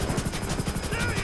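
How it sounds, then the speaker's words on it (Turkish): A war helicopter in GTA 5 gives a rapid, steady rotor chop throughout a short burst, fairly loud and close. "Bir tane savaş helikopteri ver."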